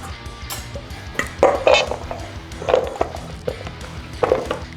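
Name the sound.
knife slicing cucumber into rounds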